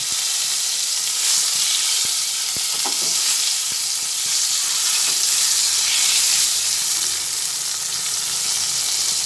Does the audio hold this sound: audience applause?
no